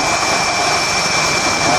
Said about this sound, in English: Cobra 3-3 now leads the Huey helicopters into the landing zone